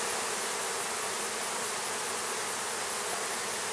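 Honeybees swarm around an open rescue hive in a dense, continuous buzzing drone that stays loud and even throughout, with no pauses or voices.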